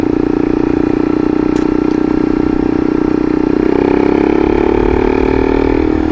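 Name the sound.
motorcycle engine with aftermarket muffler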